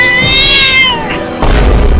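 A cat gives a loud, close, drawn-out meow that rises and falls, followed by a short second call and then a sudden burst of noise at the end.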